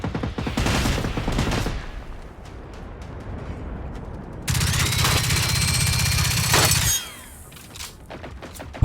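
Weapon fire in the shooter game Generation Zero: bursts of loud close gunshots, with a dense sustained rattle in the middle, then fading into quieter scattered shots.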